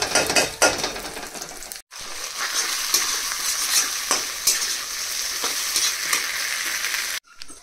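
Dry whole spices like cinnamon and black pepper roasting in a pan for pork curry, a dense crackling rattle with scraping stirs, close and fairly loud, briefly cut off twice.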